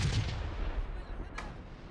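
A siege cannon in the Medieval Total War game fires at a castle gatehouse with a single heavy boom and a rumbling tail, followed by a brief sharp impact crack moments later.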